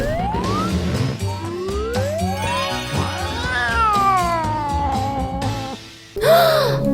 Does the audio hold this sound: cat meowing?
yes